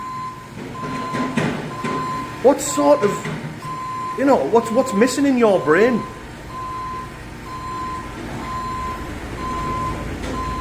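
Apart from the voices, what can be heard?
truck reversing alarm beeping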